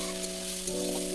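Kochur loti (taro stolons) being stirred in a pan with salt and turmeric, giving a steady close sizzle of frying with faint scraping stir sounds and no voices.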